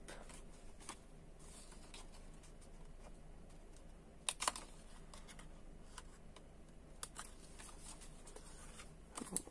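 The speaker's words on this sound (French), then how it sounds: "On finit au ciseau. La découpe." Scissors snip paper for a fancy fold card, giving faint, sparse clicks and crisp cuts in a quiet room, with a couple of sharper snips near the middle.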